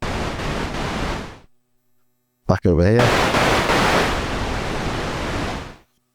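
Broadband noise from a Donner Essential L1 and a Roland SH-101 synthesizer hisses steadily, cuts to silence, then returns after a brief spoken phrase, sounding a touch brighter the second time.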